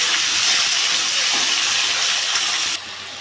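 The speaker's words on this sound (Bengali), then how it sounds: "তেলটা গরম হয়ে গেছে, সব মাছগুলো দিয়ে দেবো।" Pangas fish pieces hit hot oil in a pan and set off a loud, continuous hissing sizzle that cuts off abruptly near the end.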